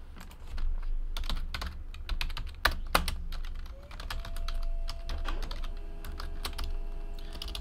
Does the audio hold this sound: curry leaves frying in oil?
no